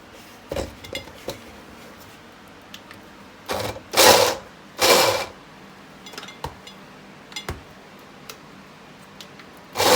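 An electric chopper chops onions in short motor whirs, two longer loud bursts in the middle and several brief pulses around them, with quiet gaps between.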